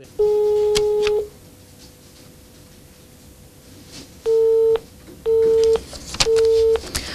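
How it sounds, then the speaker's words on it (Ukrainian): A telephone busy signal from an unanswered call to a member of parliament: one long steady tone, a pause, then three shorter repeated beeps, loud and clear with a faint background hum. "кілька спроб додзвонитися до нардепа Сергія Капліна були безуспішними."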